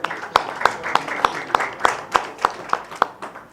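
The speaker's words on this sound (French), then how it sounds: "je vous prie d'applaudir et d'accueillir bien fort Mouska" Steady, evenly spaced claps, roughly three per second, carry through a press conference room with a low murmur beneath, sounding like a few people clapping in rhythm rather than a full ovation.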